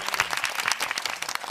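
An audience claps in a short burst of dense, crackling applause, steady and fairly close, lasting under two seconds.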